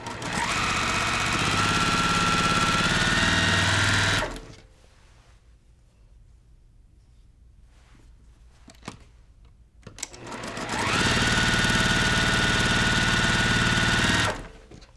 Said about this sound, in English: I'm just going to keep sewing the next row.